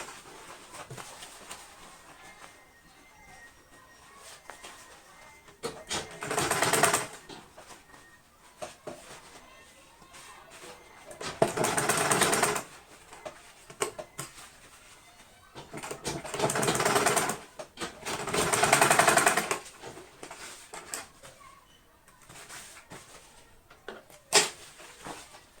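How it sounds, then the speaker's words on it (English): Sewing machine topstitching a raincoat, with four separate runs of steady needle whirring spread across a quiet stretch, each several seconds long, with soft handling noise between them. "So after that, you can see I've top stitched on it."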